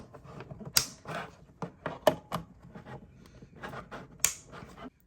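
Plastic action figure throne pieces for a Masterverse Skeletor Havok Throne being plugged into side holes, giving three sharp, close plastic clicks spaced a second or more apart over a quiet background.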